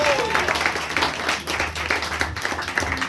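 A congregation at a church service claps together in steady applause, a dense wash of hand claps with faint crowd noise underneath throughout.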